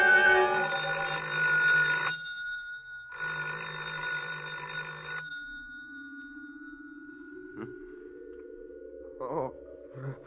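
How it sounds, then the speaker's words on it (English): Old-time radio drama telephone bell effect: two loud, clear bursts of ringing separated by a short pause, followed by a faint electronic tone and a few soft clicks in an otherwise quiet scene. "I thought I heard the phone."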